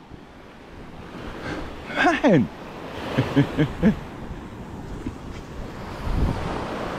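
Sea waves and surf at Bamboo Beach, Pattaya, Thailand, washing steadily under wind noise on the microphone, with someone speaking briefly over the water.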